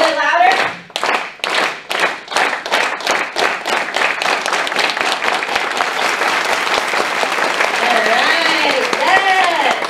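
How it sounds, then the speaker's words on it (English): A conference audience in a work-event setting claps slowly in spaced, rhythmic beats at first, then speeds up into loud continuous applause that fills the room, with some voices mixed in toward the end. "can we start with a slow clap as if we were in a work environment?"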